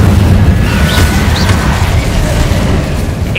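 Spell explosions rumble in Hogwarts Legacy, a loud, continuous deep booming roar with faint crackle on top, filling the whole moment without voices.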